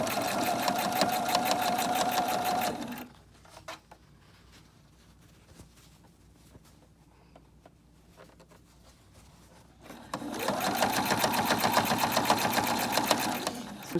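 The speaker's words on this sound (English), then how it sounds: "A couple stitches, and then I'm going to back stitch." Close and loud, a sewing machine stitches fabric for a homemade dust mask in two bursts, running for a few seconds, pausing while the fabric is adjusted, then whirring again at full speed.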